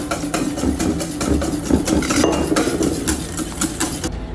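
Utensil vigorously beating milk and cheese frosting with icing sugar and butter in a bowl, a fast continuous rhythmic clatter and scrape close by, with a low hum underneath.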